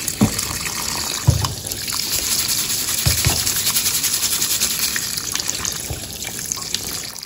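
Rice being rinsed in water at a kitchen sink for paella, a steady wash of running and sloshing water with a few brief knocks and clinks, close and continuous, no talk.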